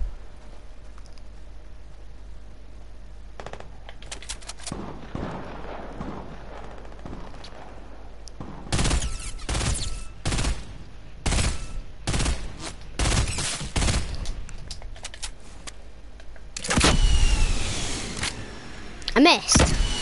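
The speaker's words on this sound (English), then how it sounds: "So I got two hits with this gun." Video game gunfire comes in scattered single shots and rapid bursts, loud and sharp, with quieter stretches between volleys.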